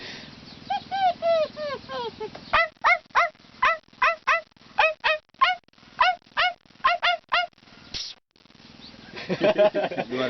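A voice imitates a dog, giving a quick rhythmic series of short, sharp yelps and barks, close and fairly loud.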